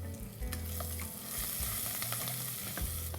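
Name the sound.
cumin, asafoetida and chillies frying in hot oil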